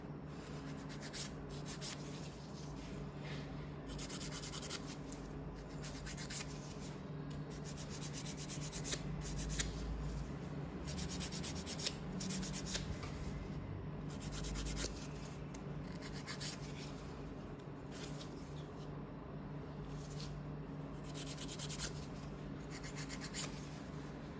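Fingernails being filed with a sandpaper nail file, a close, steady rasping rub repeated in quick strokes throughout, with no talking.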